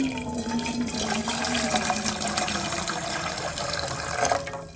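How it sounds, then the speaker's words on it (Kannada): Water poured into a pot sitting on a gas stove, a continuous close gushing splash that fills the whole moment with no talk over it. "ನೀರು ಹಾಕೊಳ್ಳೋಣ ಅದರಲ್ಲಿ"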